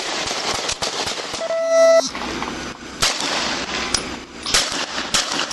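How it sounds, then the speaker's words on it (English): A police officer firing a handgun at close range, a string of sharp cracking shots spaced irregularly through a loud, noisy outdoor scene with a brief steady tone midway and no clear speech. "Reloading and firing again."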